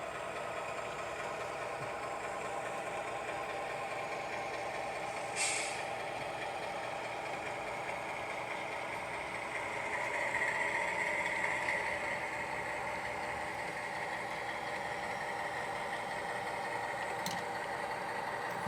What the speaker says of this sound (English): that's a different train moving on the lower level.